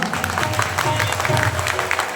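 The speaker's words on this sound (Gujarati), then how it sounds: "ખરેખર પણ જોરદાર તાળી વગાડો." Audience applause with loud clapping at a devotional gathering, a dense steady burst filling the clip with no pause.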